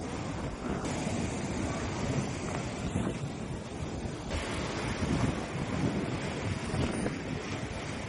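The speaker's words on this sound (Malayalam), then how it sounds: "നല്ല തണുത്ത കാറ്റും മഴയും കാരണം തണുക്കും" Cold wind buffets the microphone at the seaside at Kanyakumari with rain about, a loud rushing roar mixed with surf, gusting steadily throughout.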